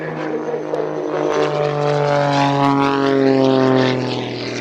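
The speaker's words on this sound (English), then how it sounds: "Before we get to the next burst of jet noise" Jet aircraft flying a display at the Cosford Airshow, a loud, steady engine roar with a whining tone that shifts in pitch as the aircraft passes, continuous throughout with no talk.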